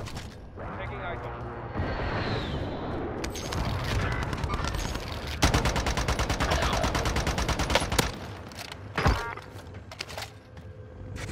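Sniper rifle shots ring out in a first-person shooter, sharp reports amid dense gunfire, clattering mechanisms and constant chatter, with a loud burst of shots near the middle and a single strong crack toward the end.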